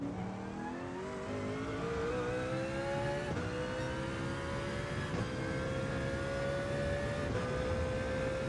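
Gr.2 race car in a 24 Hours of Le Mans racing game, engine droning loud and steady with a slowly climbing pitch as it closes in from behind, with no talk over it.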